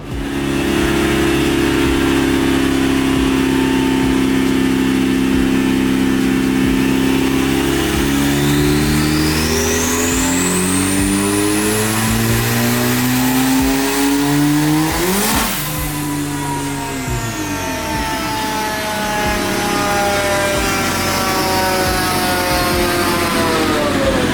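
A turbocharged Honda Civic strapped to a dyno revs hard on a stock clutch, its engine note climbing in a long sustained sweep, loud and close, before easing back down with no talking over it.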